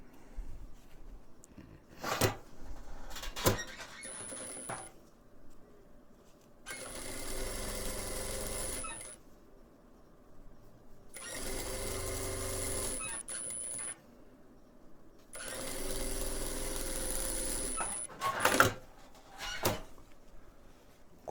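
A domestic sewing machine stitches rows of patchwork fabric right sides together. It runs in three bursts of a few seconds each, close and steady, and short clicks and handling noises fall in the pauses.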